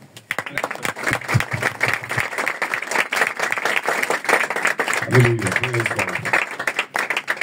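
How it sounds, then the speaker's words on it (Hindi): Applause from a church congregation at a Hindi-language worship service, steady broadband clapping filling the whole stretch with voices talking over it and a brief low burst of speech near the end. "एक बार फिर हम तालियां बजाएंगे।"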